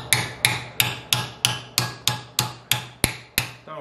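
Hammer tapping a steel rear door panel on a Mercedes W109/W108 during rust repair, eleven gentle, evenly spaced metallic taps ringing close and clear with nothing else heard.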